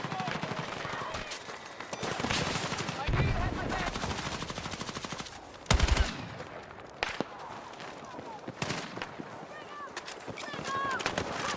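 Rapid automatic gunfire rattles through a Battlefield 6 match in dense, sustained bursts, punctuated by a few sharper, louder shots, with a voice talking over the action.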